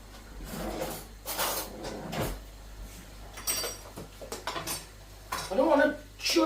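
A spoon clinks and knocks against a favourite cup while gravy granules and an OXO cube are mixed in, in short, irregular bursts of clatter with quiet gaps between them.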